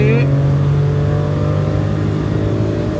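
A Maruti Suzuki S-Presso strains in third gear during a drag race, its engine droning in a steady, slowly rising tone that sounds loud and near, with voices faintly audible over it.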